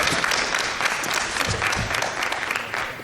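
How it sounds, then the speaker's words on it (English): Audience applause for a judge at a high school Shark Tank style event, a dense burst of many hands clapping in a hall, steady and fairly close for the whole moment. "Give it a big round of applause."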